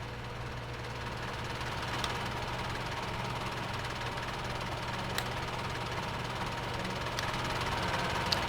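A tractor engine runs in Farming Simulator 17 with a steady, low mechanical drone and faint knocking vibration throughout, plus a few small clicks, without any clear rise in revs.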